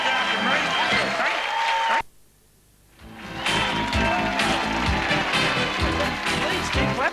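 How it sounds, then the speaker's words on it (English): A studio audience claps for visiting Neighbours stars on the 1987 Young Talent Time show: loud, dense applause that drops away briefly near the middle, then surges back just as full. "Please keep clapping."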